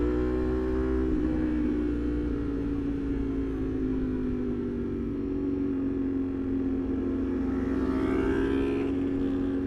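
A group of motorcycles ride nearby, picked up only by a rider's helmet microphone as a continuous engine drone that rises slightly toward the end, under steady wind noise, with no talking.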